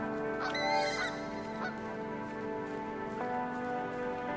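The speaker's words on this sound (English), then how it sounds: "got our own flock of geese" Geese in a video game honk in a few short, nasal calls early on, layered over a steady tonal game soundtrack that continues afterward.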